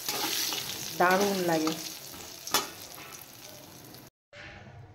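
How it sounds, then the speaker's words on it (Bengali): Bori lentil dumplings fry in hot oil with a steady, close sizzle and some stirring; a voice speaks briefly partway through, and the sound cuts out for a moment near the end. "এবার আমি ভেজে নেব বড়ি"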